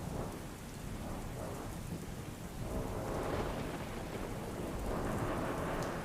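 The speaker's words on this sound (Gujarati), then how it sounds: "કેશોદમાં ધોધમાર વરસાદ વરસવાને કારણે ચારે બાજુ પાણી જ પાણી થઈ ગયું છે" Heavy rain pours down steadily in Keshod, Gujarat, a dense continuous roar of drops on surfaces with low rumbles of thunder swelling underneath, fairly distant and even throughout.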